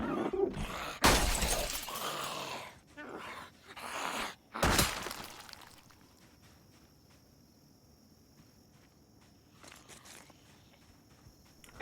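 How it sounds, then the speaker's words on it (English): Window glass shattering in a zombie video game: loud crashing bursts of breaking glass in the first few seconds, then quieter crunching steps on shards over a chirping insect ambience. "Could you not break that window?"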